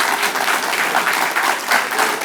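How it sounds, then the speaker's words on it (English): Applause at a college valedictory ceremony for an annual industry-institute interface programme, a dense, steady round of clapping from a large audience throughout the short stretch, with no voices over it. "A big round of applause to each one."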